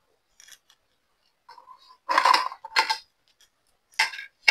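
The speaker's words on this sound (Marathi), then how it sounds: "जसं ब्रेडचं पॅटीस कसं असतं त्यात आवाज पण बघा कसा येतो" Crispy fried fasting patty, golden on both sides like a bread patty, giving a few sharp, dry crunches in separate bursts with quiet gaps between, close by.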